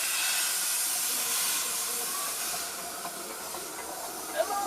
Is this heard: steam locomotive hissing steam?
yes